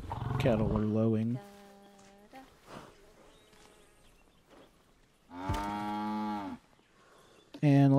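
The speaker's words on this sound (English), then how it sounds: "Cattle are lowing." Cattle low in the Planet Zoo video game: several long, drawn-out moos, loud and near, with quieter buzzing between the calls.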